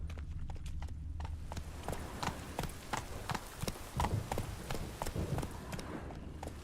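A horse gallops in The Witcher 3 video game, with rapid rhythmic clip-clop hoofbeats close by over a low rumbling backdrop, steady for several seconds.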